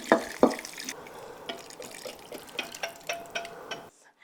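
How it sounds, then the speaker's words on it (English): Gravy poured from a container over cube steaks and vegetables in a slow cooker, a wet splatter followed by irregular drips and plops, close and fairly quiet, ending abruptly. "what we're going to do now is pour this all over our cube steaks and vegetables."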